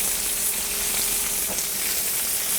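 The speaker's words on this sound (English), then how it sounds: "see how that sizzling cooled down?" Onions and beef sizzle steadily in a hot stir-fry pan, a loud, continuous frying crackle with no pauses and no voices over it.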